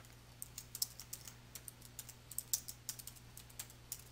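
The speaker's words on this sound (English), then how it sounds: "type a name for the new report group." Computer keyboard keys clack in a steady stream of light taps as a name is typed into QuickBooks Pro 2018, quiet and close with a low hum behind.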